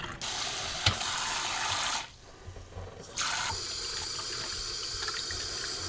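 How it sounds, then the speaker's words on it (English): Tap water runs steadily over wood duck meat as it is drained and rinsed in a sink, with a brief dip when the flow shifts before the full splashing stream resumes, close and continuous. "I'm going to drain all that and then just kind of give it a wash"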